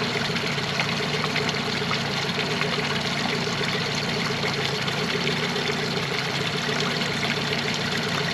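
A Yamaha 90 outboard motor on a 2015 Smokercraft Phantom 182 runs steadily after a cold start, giving a constant close idle hum with a watery burble and no talking.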